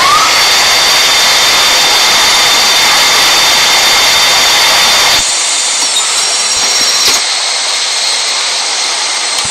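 A jet airliner's engines roar at high thrust during takeoff in Real Flight Simulator, a loud continuous broadband rush that abruptly thins to a lighter, steadier whine partway through.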